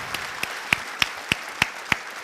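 Seven separate hand claps, evenly spaced and unhurried, ring out for a conference speaker's introduction, each sharp and distinct over a quiet room.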